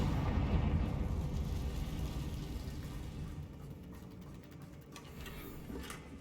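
Confringo fire spell explosion from Hogwarts Legacy, a low rumbling blast that starts strong and slowly fades into crackling debris-like noise.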